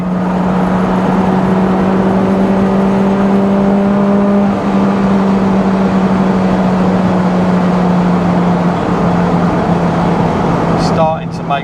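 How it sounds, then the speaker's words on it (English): A supercharged Honda S2000 at full throttle in sixth gear gives a steady in-cabin engine drone that climbs gradually in pitch, ending with a brief sharp tap. "So in 6th gear, not where a supercharger should work well, but foot to floor, so making positive pressure."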